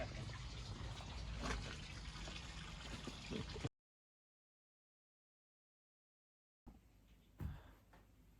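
Water gushing from a pump hose at a pond build site, where the pump is jammed with clay, a steady noisy splashing rush that cuts out abruptly midway before a quieter wet spatter returns.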